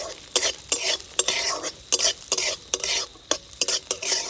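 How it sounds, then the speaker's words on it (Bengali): Grated coconut, cashews and raisins fry in mustard oil in a wok while a spoon stirs them briskly, giving close rhythmic scraping strokes over a continuous sizzle. "নারকেল, কাজু, কিশমিশ খুব ভালোভাবে ভাজা হয়ে গেছে"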